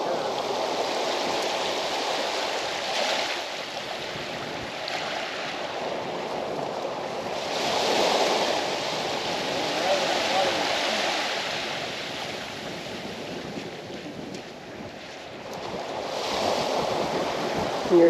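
Ocean waves break and wash onto the shore in slow, repeated surges, with wind blowing across the microphone and no talking.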